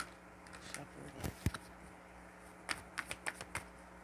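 Tarot cards are shuffled close up in scattered crisp flicks and taps, a few clustered bursts over a quiet room hum with no talking.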